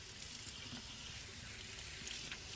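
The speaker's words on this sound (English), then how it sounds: "Give my hands one more wash." A kitchen sink tap runs steadily while hands are rinsed, a soft continuous hiss of flowing water with faint splashing, quiet and even throughout.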